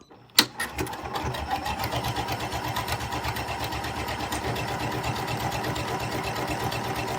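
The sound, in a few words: Janome Continental M6 sewing machine stitching buttonhole automatically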